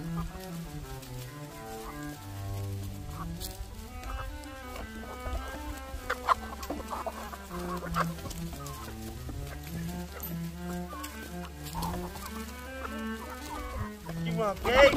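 Chicken clucking comes in repeated short bursts, moderately faint, mixed with some other sound and possible voices in the background.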